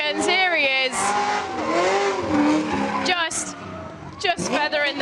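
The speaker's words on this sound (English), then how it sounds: "Just feathering the throttle there and parking it absolutely lovely in the bay" A drift car at the Goodwood Festival of Speed Driftkhana 2021 revs hard, its engine rising and falling in pitch as tires squeal and skid while it parks in a bay, heard loud under a commentator's voice.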